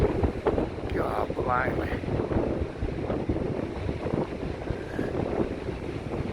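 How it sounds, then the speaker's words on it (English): Strong gusting wind buffets the microphone in a constant, loud rumble on a stormy, rainy seafront in Blackpool, with someone speaking briefly over it. "Let me just put my back to the wind."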